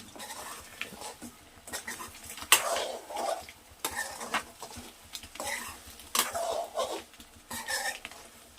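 Egg fry being stirred slowly in a pan, with soft scraping and clinking of a utensil against the metal in irregular strokes, fairly close and quiet.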